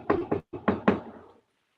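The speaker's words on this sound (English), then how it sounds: "I'm going to knock." Five sharp knocks ring out on a hollow surface in a quick uneven pattern, close and loud with a short decay, and silence follows.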